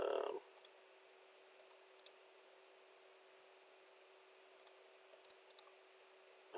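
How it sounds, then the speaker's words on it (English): Sparse computer mouse right-clicks and Enter key presses in a quiet room while working in Autodesk Inventor HSM, coming as single sharp clicks and short pairs with long silent gaps, close and crisp over a faint steady hum. "I'm just right-clicking and then hitting the Enter button."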